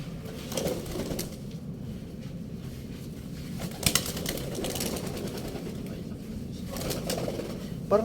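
Pigeons cooing at night, low soft coos recurring over a steady background hum, with occasional brief rustles.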